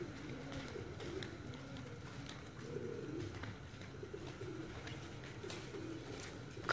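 Pigeons coo softly in a low, rolling pattern through the whole stretch, some near and some farther off, while faint chirps and rustles sit beneath them. These are high-flying pigeons kept outdoors.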